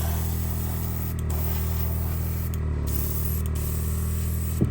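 An airbrush or spray can sprays paint onto the underside of a 1/72 MPM Fokker T.VIII W/G model kit, a continuous close hiss with a few brief interruptions and no talking.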